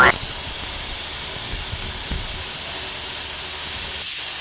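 Pressure cooker hissing steam while homemade sardines cook, a loud continuous high hiss held steady and close throughout.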